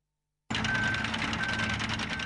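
A roadworks vehicle's reversing alarm beeps steadily and repetitively, loud and close, over continuous engine and machinery rumble.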